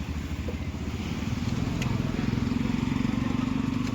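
A motorcycle pulls away nearby, its engine a steady rhythmic throb that grows louder and more even over a few seconds, heard on its own without talk.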